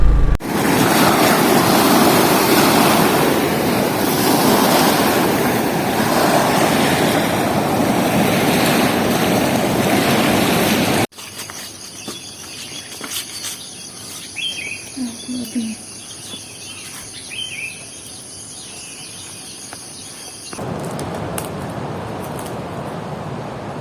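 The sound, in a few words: ocean waves at Pantai Teluk Asmara beach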